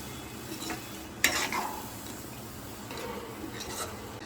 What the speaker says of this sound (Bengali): এবার এর মধ্যে সামান্য পরিমাণে জল দিয়ে দেব আমি ওই মিক্সির বাটি ধোয়া জলটাই দিয়ে দিচ্ছি